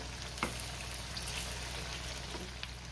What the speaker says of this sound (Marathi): दुसऱ्या साइडनी सुद्धा आपल्याला असंच गोल्डन ब्राउन रंग येईपर्यंत परतून घ्यायचंय